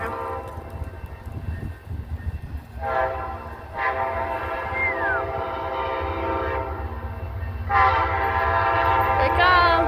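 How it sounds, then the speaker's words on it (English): In Plant City, a train rolls over tracks where pennies have been laid, with a low rumble and wheel noise under repeated loud horn blasts that grow nearer; the pennies themselves are not distinctly audible. "Here comes that train. It should be running over the pennies now."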